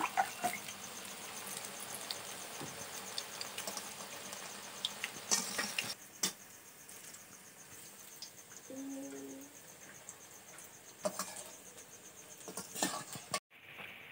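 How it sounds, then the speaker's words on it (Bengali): Pieces of food fry in oil in a home kitchen, with a quiet, continuous sizzle broken by scraping stirs, clinks of a utensil and a brief hum near the end. "এইভাবে এক এক করে কিন্তু সব ভেজে নেব, আমি সবগুলো ভেজে নেব"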